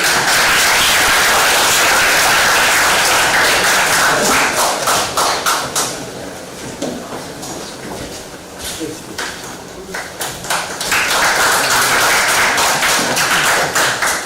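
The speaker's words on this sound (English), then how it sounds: "A big round of applause, please." Conference audience applause at an engineering event: loud, close clapping that thins out midway into scattered claps and thuds, then swells back to full clapping.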